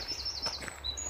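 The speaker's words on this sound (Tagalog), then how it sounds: "At ang huni ng ibon ay... Alam mo na, ang ganda." Bird chirps and tweets in a forest, a few short high calls repeating over a low steady background hum, fairly faint.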